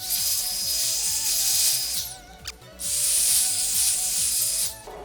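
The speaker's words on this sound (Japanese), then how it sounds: "もう一回ちょっとブロワーをかけて浮いた汚れを吹き飛ばしていきます" Two long bursts of pressurized air hiss loudly from a blower blowing loosened dirt out of a car engine bay, with a short pause between them and a faint mechanical hum underneath.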